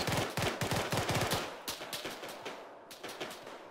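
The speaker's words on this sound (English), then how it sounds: "Shots." Bursts of automatic gunfire from the ARMA 3 military game crackle in rapid, uneven volleys, dense at first and then thinning into scattered shots, with no talking over them.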